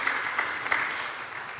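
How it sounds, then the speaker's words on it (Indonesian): Applause from a church congregation at an online Easter service, a steady broad wash of clapping with a few sharper claps standing out, moderately loud and continuous throughout. "Boleh bangga tepuk tangan bagi Tuhan Yesus."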